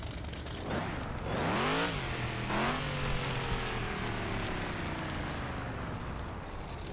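A truck engine in the Offroad Outlaws driving game revs hard through rising gear sweeps, shifts and climbs again, then settles into a steady loud drone while the vehicle drives across the desert.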